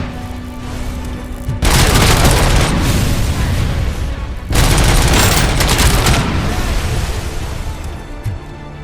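Gunfire in the Robocop Rogue City video game, dense booming bursts of shots and explosions rolling over a constant loud background of game noise, in two heavy waves with no speech.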